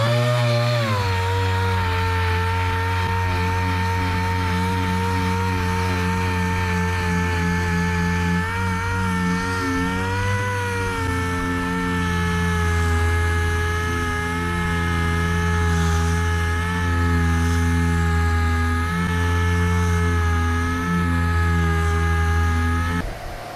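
A power sander working the bodywork of a '59 Dodge Coronet, a loud steady motor whine with strong harmonic hum that holds continuously and close, shifting slightly in pitch as pressure changes.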